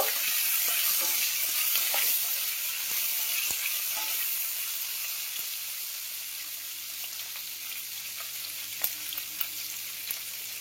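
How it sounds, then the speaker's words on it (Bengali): Small cut pieces of capsicum sizzle and hiss in a hot pan while being stirred for a chili garlic bhetki dish, a constant frying crackle with a few sharp scrape and clink accents near the end. "সেই ক্যাপসিকামটাকেও এখন এর মধ্যে দিয়ে দিচ্ছি। একটু নাড়াচাড়া করে নেব।"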